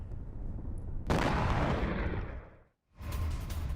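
A gas plant explosion in the Persian Gulf, in news footage: a sudden heavy roaring blast hits after a quieter rumble and sustains a dense broadband roar, cuts out briefly, then returns as a continuing loud rush.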